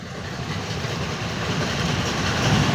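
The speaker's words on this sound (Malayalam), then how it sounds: "ട്രെയിൻ നല്ല സ്പീഡിലാണ് കേട്ടോ പോകുന്നത്." A train races along the rails on a trip toward Rameswaram, a dense, steady rumble of wheels and carriages with faint clickety-clack, loud and continuous with no talk.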